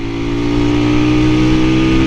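A motorcycle engine drones loud and close at a steady high pitch, holding a continuous hum like sustained high-speed riding on a road in Mustang, Nepal, with no voices.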